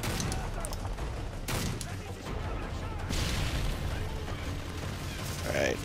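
Desert Eagle pistol shots in Call of Duty: Modern Warfare 3, sharp gunfire bursts within a busy battle mix of distant shots and mechanical clatter, with a voice talking over it.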